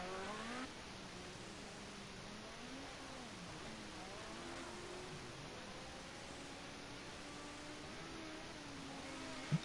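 Ford Sierra Group A touring car engines at Bathurst in a racing video game whine and rise in pitch, shifting up and down as the cars accelerate and brake, steady and moderately loud with no talking.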